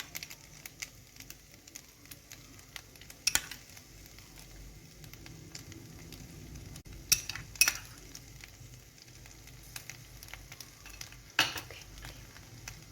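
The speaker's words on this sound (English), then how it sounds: "Now stir it." Mayonnaise being stirred into creamy white sauce pasta in a pot, giving soft, quiet scraping and stirring with a few sharper utensil clinks against the pan, with no talking.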